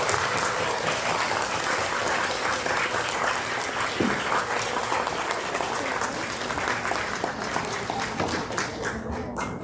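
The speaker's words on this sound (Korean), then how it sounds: "지금 저기서 걸어오고 계시는데 박수 부탁드립니다." Audience at an outdoor Korean peace gathering applauds as singers walk up to perform, a long, even wash of many hands clapping that stays loud and sustained throughout.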